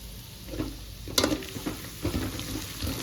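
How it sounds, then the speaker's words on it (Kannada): Ground masala for ghee rice sizzles and fries in a hot pan, a steady soft crackle with a few sharper stirring scrapes and clinks over it. "ಈಗ ಈ ರುಬ್ಕೊಂಡಿರೋ ಅದೇನೋ ಮಸಾಲೆನ ಹಾಕ್ತಾ ಇದ್ದಾರೆ"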